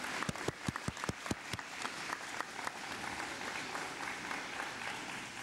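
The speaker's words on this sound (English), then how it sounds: "could we have a collective round of applause for the work of the teachers as well as the students behind this wonderful work" A conference audience applauds teachers and students, opening with several loud, distinct claps close by, then settling into a denser, steadier round of clapping that carries to the end.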